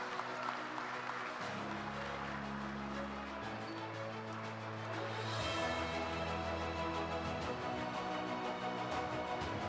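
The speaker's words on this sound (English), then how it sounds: "A big round of applause for her" Applause at a medical college decennial celebration and award ceremony, a steady patter of clapping under a low musical drone, moderately loud and continuous throughout.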